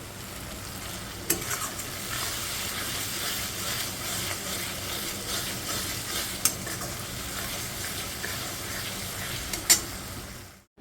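A spice paste is stirred into lightly fried onions in a pan for a home-cooked Bengali meal: steady sizzling with scraping stirs and occasional clinks of a utensil against the pan, close and continuous.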